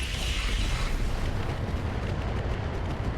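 Heavy weapons fire pounds a Maelstrom mech in the RogueTech BattleTech game, a dense, loud rumbling barrage of booms and explosions running continuously with no pauses.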